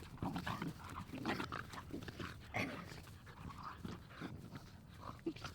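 A dog pants and whimpers close by, with rapid breathy huffs and short whining sounds over outdoor background noise.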